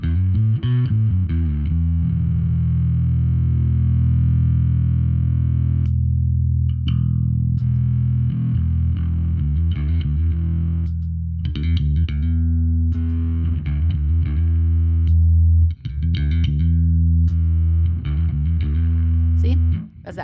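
Electric guitar played through a distortion pedal in a home pedal setup, thick sustained chords and picked riffs ringing for about twenty seconds with brief gaps, loud and close with no talking.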